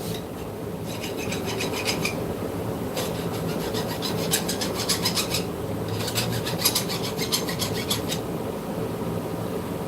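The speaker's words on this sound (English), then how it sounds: "I'm going to file that thing off real quick" A metal file rasps in repeated strokes on a knife, scraping back and forth in bursts of harsh, gritty sound, close by with no talking.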